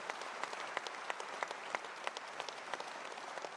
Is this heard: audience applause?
yes